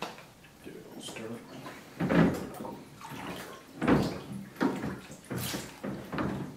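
Home-brewed all-grain beer is stirred in a fermenter, producing close, repeated sloshing swirls of liquid in a rhythmic series of surges.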